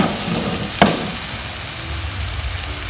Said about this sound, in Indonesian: sudah menjadi berwarna kecoklatan seperti ini kita masukkan air